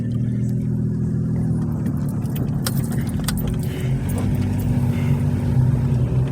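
Car traffic on a one-way residential street in McKeesport, Pennsylvania, heard as a steady, close engine rumble and road hum that holds throughout without any voices.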